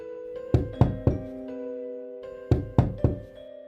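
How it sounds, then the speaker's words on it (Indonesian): A horror radio drama effect of knocking on a window, nine sharp close knocks in two groups of three and more, over a faint sustained tone. "Tiba-tiba aku mendengar suara ketukan 9 kali di jendela."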